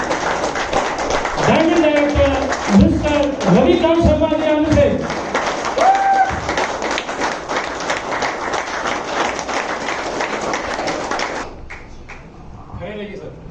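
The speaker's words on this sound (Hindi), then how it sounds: "आपके स्टैंडिंग ओवेशन के साथ, जोरदार तालियों के साथ, तहे दिल से" Loud applause and cheering from a standing audience at a business seminar rise under an announcer's amplified voice, with dense clapping carrying on steadily before fading out at the end.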